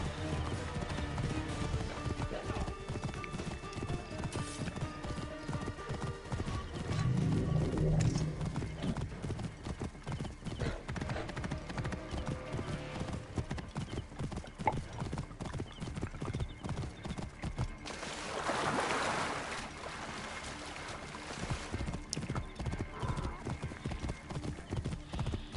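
Rhythmic clip-clop of horse hooves running steadily in Assassin's Creed Origins, with a horse whinnying briefly, over game music and occasional voice.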